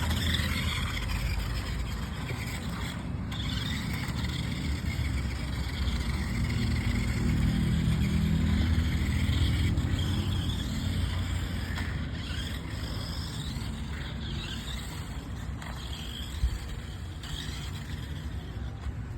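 A rechargeable remote control toy car drives forward and then backward, its small motor giving a steady, continuous whirring hum that swells in the middle and eases off, with no voices over it.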